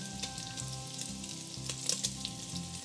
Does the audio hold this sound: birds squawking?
no